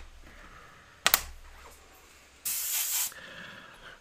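An airbrush fires short practice bursts, a brief sharp spray near one second followed by a longer, loud hiss of about half a second, with quiet gaps between.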